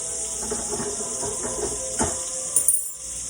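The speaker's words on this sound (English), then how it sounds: "I'm going to give it a good flip, and I'm going to let the other side of it cook" A top sirloin steak sizzling in a pan just after flipping, a loud steady hiss with a few sharper spatters and a brief spatula clatter toward the end.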